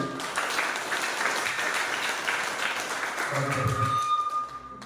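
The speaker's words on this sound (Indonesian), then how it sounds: "Lagi kita berikan aplaus dulu" Audience applause at a church gathering, steady broadband clapping sustained throughout, with a brief louder murmur near the end.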